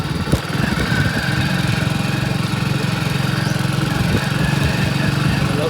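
A motorcycle engine runs at a steady idle at a village Holi gathering, a loud, close, even throbbing drone with a brief knock near the start and no voices.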